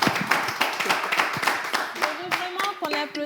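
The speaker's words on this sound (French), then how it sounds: "On va applaudir notre Miss Togo." An audience applauds for Miss Togo at a live event, dense close clapping with a voice talking over it toward the end.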